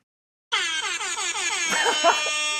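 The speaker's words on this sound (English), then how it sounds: "I got an air horn." A loud air horn blasts after a moment of silence, one sustained blaring tone held for about two seconds, close and piercing.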